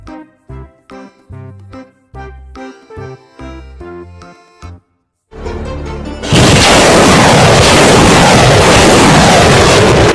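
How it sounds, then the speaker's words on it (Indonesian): A rocket truck fires its rockets with a loud, sustained, close blasting roar that runs to the end, after a bouncy melody and a brief silence. "Truk roket."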